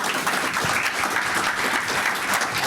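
Audience at a stroke awards ceremony applauding a winner, a steady, full round of clapping filling the hall for a few seconds without any voices.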